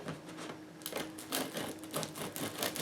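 A knife saws through a crispy no-knead rye roll, rapid crunchy crackling strokes of the crust in quick succession, close and quiet with no talking.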